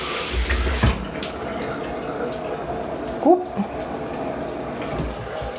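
A Hibbent shower head runs on its waterfall setting, a steady close spray of water hissing continuously, with a brief vocal exclamation partway through.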